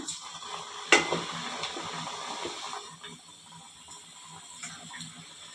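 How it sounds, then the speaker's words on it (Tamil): Grated potato and onion snack pieces drop into hot oil in a kadai over a medium flame, with a sharp splash near the start and then a steady, close sizzle that slowly softens. "இதை நம்ம எண்ணெயில் போட்டு பொரிச்சிக்கலாம்"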